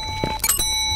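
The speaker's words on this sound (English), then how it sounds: "I heard a bell." A bell on the front counter of a reportedly haunted building rings once in a quiet room, a short bright ding near the middle, fairly close, with no talking.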